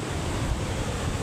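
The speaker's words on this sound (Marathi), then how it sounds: "पाणी बघा काय खवळलं आहे." Rough, churning sea waves on the Konkan coast after three days of steady rain, a dense continuous roar of surf and wind rumbling close to the microphone with no pauses.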